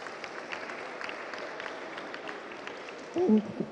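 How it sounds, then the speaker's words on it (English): An audience gives a dense, steady round of applause at a science and maths quiz event, with a brief voice cutting in near the end. "Let us give them an applause"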